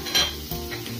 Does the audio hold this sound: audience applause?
no